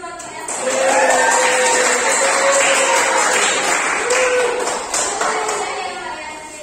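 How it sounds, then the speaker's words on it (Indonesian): A classroom of students claps for their teacher, a loud burst of applause that swells within a second, holds for several seconds, then tapers off with faint voices mixed in. "Oke, beri tepuk tangan buat saya."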